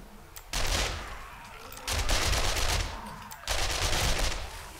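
Weapons firing in the survival game 7 Days to Die, with three sustained bursts of rapid shots, each lasting about a second and a half and separated by short pauses, heard fairly softly.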